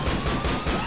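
Rapid gunfire from a gun in GTA IV: The Lost and Damned, a brief, loud, dense burst of overlapping shots.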